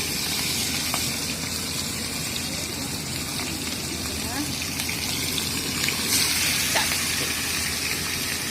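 Hilsa fish frying in hot oil in a pan, a loud continuous hissing sizzle close up that holds steady throughout, with no talking over it.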